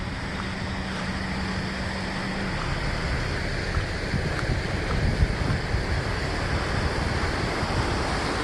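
A creek runs beside the Kern River, giving off a steady broadband rush of water that holds an even level throughout, with a faint low hum early on and no voices.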